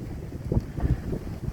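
Strong outdoor wind buffets the microphone in uneven low rumbling gusts that fill the moment, with no voices over it.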